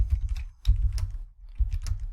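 A Linux command is typed on a computer keyboard in a network server session: a few short, close key taps in small clusters with brief gaps, alone and moderately quiet.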